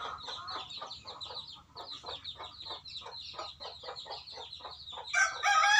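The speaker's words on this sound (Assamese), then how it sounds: "14টা পোৱালি আছে ইয়াত" Fourteen newly hatched chicks peep in a continuous chorus of high, rapid chirps close by, growing louder and busier toward the end.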